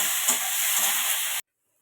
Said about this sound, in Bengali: দেখো, বেগুন আর শিম একসাথে ভাজা ভাজা করে নেব।